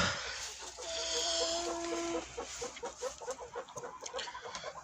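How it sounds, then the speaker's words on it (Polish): Hens in a henhouse cluck softly and continuously at close range, with a brief sustained call early on and a steady murmur of low clucks throughout. "Tutaj mamy kurki, wszystkie już siedzą."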